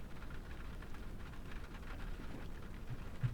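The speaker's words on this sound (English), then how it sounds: "The sound of the rain echoed quietly around her." Steady rain pours down as a dense, even hiss that holds unchanged throughout, with no voices.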